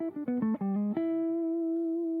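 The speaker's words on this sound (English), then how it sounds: "there is a bluesy pentatonic that sounds like this," Electric guitar plays an E bluesy pentatonic line as a quick run of seven or so single notes, then holds a final note that rings and sustains for over a second, played solo.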